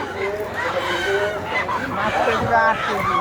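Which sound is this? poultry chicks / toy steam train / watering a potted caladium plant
poultry chicks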